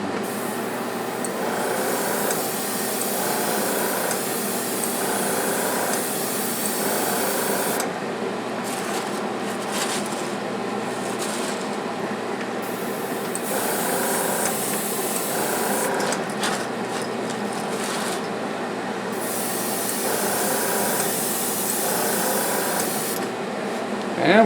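Airbrush spraying fluorescent chartreuse paint onto a fishing lure, a steady close hiss running continuously with brief dips and surges as the trigger is worked.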